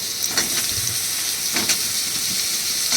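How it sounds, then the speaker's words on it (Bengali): Eggplant pieces fry in hot oil left over from frying fish, giving a steady close sizzle and hiss with a few brief spatters and crackles throughout. "এবার আমি বেগুনগুলোকে ভেজে তুলে নেব।"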